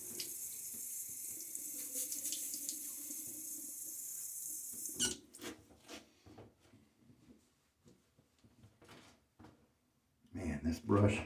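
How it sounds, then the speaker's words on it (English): Bathroom tap running into a sink for several seconds as a face is wetted for a shave, then stopping, followed by soft splashes, clinks and a few quiet handling noises. "Get my face a little bit wet one more time."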